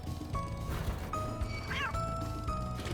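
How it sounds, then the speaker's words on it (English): A stock cat meow sound effect from Final Fantasy XIV, a single drawn-out meow rising over busy game background music and clatter, moderately loud. "That just sounded like a stock cat sound effect."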